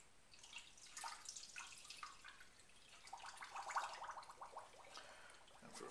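Water pouring and splashing into a container, a light trickling stream with small drips, close and fairly quiet.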